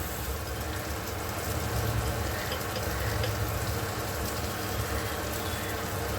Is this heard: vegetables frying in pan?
yes